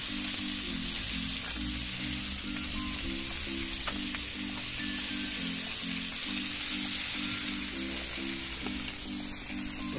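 Meat sizzles steadily on an outdoor barbecue in Rapallo, Genova, with a continuous crackling hiss and a low background rumble lasting throughout.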